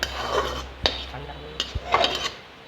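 Cooked pumpkin being scraped out of a pan into a bowl with a spoon, a few sharp metallic taps and knocks among soft scraping and stirring sounds, close and moderately loud.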